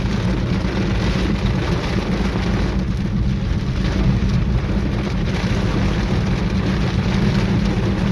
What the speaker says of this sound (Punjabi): ਮੀਂਹ ਸ਼ੁਰੂ ਹੋ ਗਿਆ ਫੁੱਲ ਮੀਂਹ ਆ